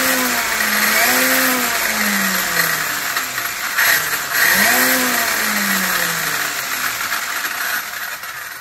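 The small electric motor of an ARRMA Mojave EXB 8S RC truck whirs steadily, rising and falling in pitch in two swells as it speeds up and slows, with a faint rattle over the hum.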